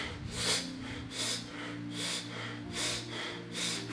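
A voice imitates rapid, heavy breathing as felt under hypnosis, a series of loud rhythmic gasping breaths repeating about every second over a constant low hum.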